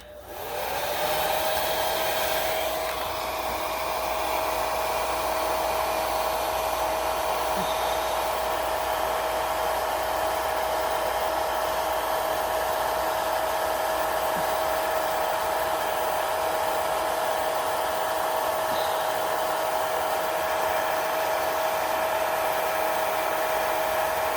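A heat gun warms a vinyl graphic on the front bumper of a 2004 Saturn Vue, switching on with a rising whine that settles into a steady, close blowing hiss and drone for the whole stretch.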